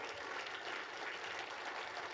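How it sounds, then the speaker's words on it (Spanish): A church congregation applauds steadily during a Spanish-language sermon, with dense, even clapping heard at a distance and a little faint. "¿Alguien quiere darle un aplauso al Señor mientras yo tomo un poquito de agua?"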